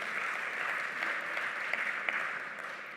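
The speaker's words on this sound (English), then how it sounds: "That applause is for you." Sustained applause from a large audience at a Government Employees Pension Fund keynote event, a dense, steady wash of clapping at even loudness throughout, with a few sharper claps standing out.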